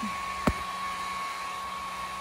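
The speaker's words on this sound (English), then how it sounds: "a hair dryer on low" A steady, even whir of a hair dryer running at low power to warm cold newborn goat kids, with a brief soft knock partway through.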